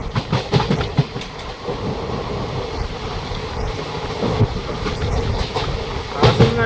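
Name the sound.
passenger train moving on tracks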